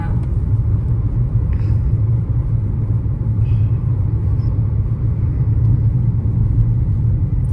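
A car drives slowly along a rough, bad road on the way to Bet Dwarka, giving a steady, close, low rumble that stays even throughout, with no talking.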